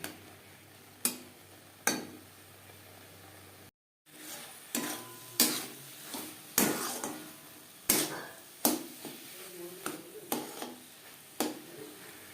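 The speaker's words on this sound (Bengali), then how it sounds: "এবার আমি মিডিয়াম টু লো ফ্লেমে রান্না করব যতক্ষণ পর্যন্ত একেবারে ড্রাই হয়ে আসে" Prawn head mash for chingri macher mathar vorta is stirred in a pan over a medium-low flame. Repeated sharp spatula knocks and scrapes ring out close and clear over a soft frying hiss, with no talking.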